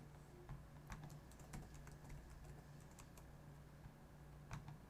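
A password being entered on a computer keyboard, with soft, scattered key clicks in short irregular runs over a faint steady hum, quiet and close, with no one talking.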